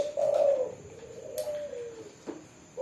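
A spotted dove (tekukur), a decoy bird for trapping, gives a soft, close coo followed by a longer drawn-out note, with faint background hiss.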